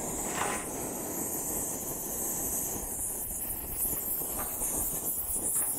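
Camping stove burning outdoors with wind blowing across its flame, a steady loud hissing roar that holds constant throughout, with no voices.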